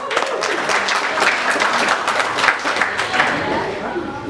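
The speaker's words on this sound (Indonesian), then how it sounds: "Tepuk tangan untuk Fakultas Syariah." An audience at a stand-up comedy competition in Aceh applauds for the Faculty of Sharia, a steady wash of many hands clapping at close range, with voices mixed in throughout.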